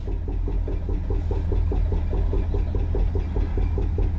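A car engine idles close by with a rough, poor-sounding exhaust, giving a steady, rapid, pulsing rumble inside a workshop hall.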